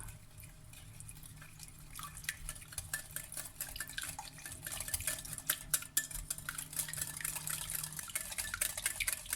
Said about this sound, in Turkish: Ve bu malzemelerimi şöyle güzelce bir karıştıracağım.